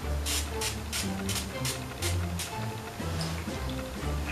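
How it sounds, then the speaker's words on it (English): Perfect Touch ultra hold hair spray sprayed in repeated short bursts, roughly eight quick hissing puffs in a steady rhythm, close and fairly loud, with faint background voices and hum underneath. "This is the um, Perfect Touch ultra hold spray"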